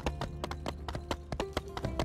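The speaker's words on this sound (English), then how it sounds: "I love the way the horse moves." Horse hooves clip-clop steadily on a path in the video game My Time at Sandrock, a brisk, even rhythm of close, crisp hoofbeats with no talking over them.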